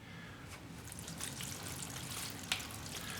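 Water pours into a seed-starting tray with a soft, continuous trickle, faint and steady, with a small splash or clink partway through.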